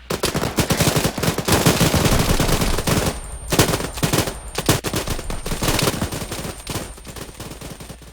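Machine guns fire in sustained bursts during military training with the RCR 2nd Battalion, with rapid, loud, close cracks over a layered roar of more distant gunfire and a brief lull midway before the firing picks up again.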